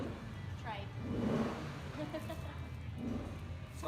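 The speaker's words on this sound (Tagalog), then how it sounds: "Ay, ang ingay ng motor." A motorcycle engine drones faintly outside an eat-all-you-can Thai restaurant, rising and falling as it revs, mostly buried under nearby talk and chatter.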